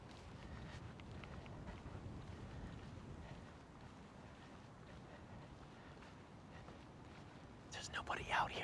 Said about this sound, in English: Oh gosh, the wind is strong.